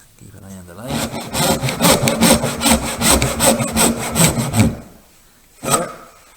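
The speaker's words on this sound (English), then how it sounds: "So we're sawing straight down with the saw." Hand saw cutting wood for a box dovetail joint: steady, rhythmic rasping strokes up close, about a dozen back-and-forth passes before stopping, then one final short stroke.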